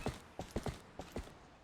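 Horse hooves clip-clop while riding in the video game Zelda: Twilight Princess HD, with about six sharp, close hoof knocks in an uneven trotting rhythm over a quiet background.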